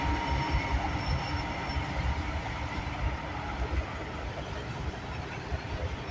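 A CN freight train passes at Burlington West, a continuous loud rumble of rolling railcars with wheel and rail noise and a faint high squeal, steady and close throughout.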